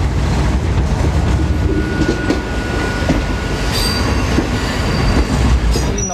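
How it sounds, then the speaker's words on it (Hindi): A local train rumbles past loudly on the railway line near Kasara Ghat, wheels clattering over the rails with sharp metallic squeals rising above the steady roar. "और ये लोकल ट्रेन ना देखे तो क्या देखा।"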